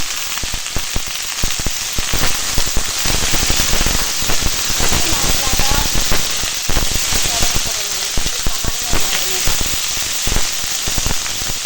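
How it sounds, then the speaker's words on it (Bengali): Pumpkin, eggplant and papaya pieces hitting hot oil in a pan, giving a loud, busy crackling sizzle with sharp pops that continues steadily throughout. "এখানে কেটে রেখেছি কুমড়ো, বেগুন আর পেঁপে দিয়ে দিলাম।"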